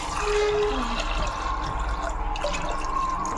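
Water poured into a pot of peas being readied for boiling for ghugni, giving a continuous close splashing and trickling flow at a steady level with no speech.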